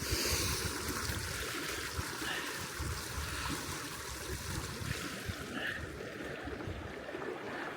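Steady rushing water flows continuously, a full broadband wash with no pauses, from a seasonal creek running close by.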